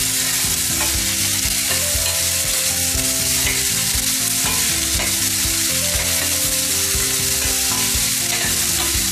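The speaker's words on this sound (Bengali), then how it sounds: "পেঁয়াজটা আমি একটু ভাজবো, একদম ফ্রাই না" A couple of small onions with cinnamon and cardamom sizzle loudly and continuously in a pan for chickpea curry, with frequent rhythmic stirring clatter close by.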